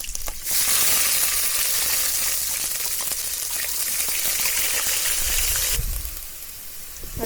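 Ginger garlic paste fries in hot oil with a loud, continuous close sizzle that holds steady for several seconds, then drops off abruptly near the end.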